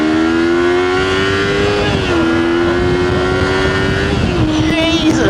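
A Kawasaki Versys 300 motorcycle engine drones steadily while riding on the road, loud and close, its pitch holding then dipping slightly with gear and throttle changes, mixed with wind rush.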